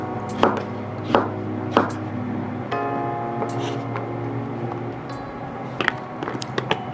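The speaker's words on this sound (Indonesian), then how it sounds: "Potong timun." A knife chops cucumber on a board in a kitchen, several sharp separate cuts at an uneven pace, then a quicker run of cuts near the end, close and clear over a faint background hum.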